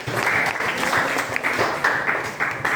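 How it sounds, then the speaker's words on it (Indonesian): Students in a classroom clap together in a short burst of moderately loud, dense applause lasting a few seconds, with faint voices mixed in. "Tepuk tangan lagi."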